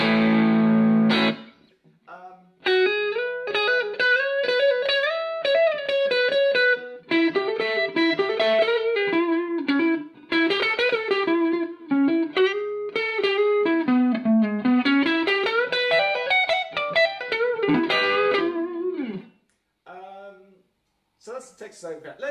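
Distorted electric guitar through a Carr Skylark amp set for a Texas Overdrive tone, playing a continuous melodic lead line with bends and slides, loud and close, ending in a brief pause and a few light notes.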